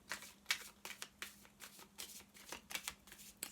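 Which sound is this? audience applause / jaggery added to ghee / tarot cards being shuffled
tarot cards being shuffled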